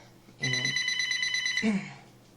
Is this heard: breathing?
no